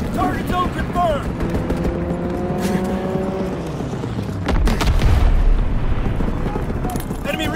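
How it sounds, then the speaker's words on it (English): Booming bursts of aircraft gunner fire and explosions rumble in a Call of Duty WWII multiplayer match on the Excavation map, with heavy low impacts building midway while voices speak over the battle. "Aircraft gunner inbound."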